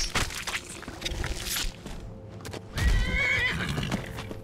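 A horse in Skyrim Special Edition gives a loud, close neigh with clopping hooves, then whinnies again near the end, with no talking over it.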